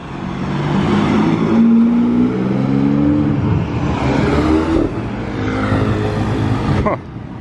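Mercedes SLR Roadster accelerates hard away at full speed on a street, its engine note rising loudly through gears and then fading, with nearby people talking over it.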